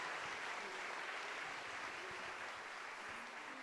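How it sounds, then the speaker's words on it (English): Audience applause at a school mariachi program honoring a teacher, a steady, fairly soft wash of clapping that holds even throughout, slightly distant, with no clear talk over it. "Can we give one more round of applause to Mr. Mario Castillo"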